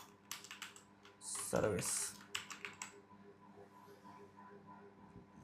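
Computer keyboard typing in rapid, uneven bursts of clicks while someone speaks briefly over a low room hum.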